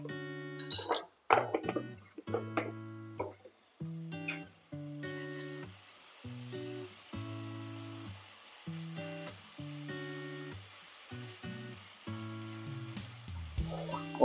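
Ginger paste frying in a pan with browned onions for chicken curry gives a steady, soft sizzle under louder background music that plays throughout.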